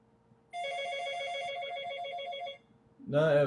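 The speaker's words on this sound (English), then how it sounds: "The phone." A telephone rings in a home, a bright repeating electronic trill lasting about two seconds and heard close, followed by a short burst of louder noise.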